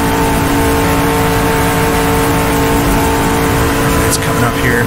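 A race car engine screams at the top of its rev range at over 190 mph in GTR2 on the 1966 Targa Florio course, loud and sustained, flat out with a steady droning pitch.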